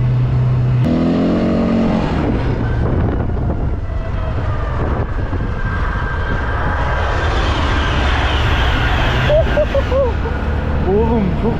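A high-speed train rushes past close by on the tracks, a loud continuous roar with wind buffeting, rising and shifting as it passes, while voices speak over it.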